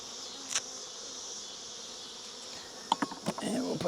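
Honeybees at an open hive during a varroa mite check give a continuous, close buzzing drone, with a few sharper handling knocks and rustles near the end.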